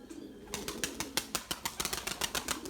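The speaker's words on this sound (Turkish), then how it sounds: "Yavrular büyüyor arkadaşlar. Sesleri geliyor." Pigeon chicks calling in a loft, a quick regular series of squeaky peeps, close and clear, after a soft background start.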